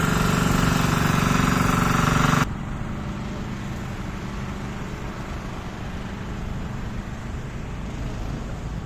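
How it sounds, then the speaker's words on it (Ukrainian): A generator rattles on a street in Poltava, a steady engine drone that is louder and brighter for the first couple of seconds, then continues as a lower, even hum to the end. "тут тарахтить генератор"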